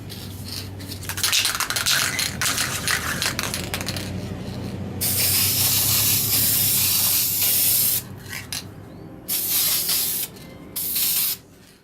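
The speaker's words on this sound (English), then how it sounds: "I've got plenty of this Deft lacquer semi-gloss laying around, so we'll give it some shots of that" A spray can of Deft semi-gloss lacquer hisses in several bursts, one long blast and then shorter ones, close and loud, after some earlier handling and clinking sounds, finishing a small wooden hex box.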